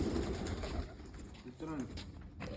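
Soft pigeon coos rise briefly through a noisy room, low throaty calls heard faintly at a distance.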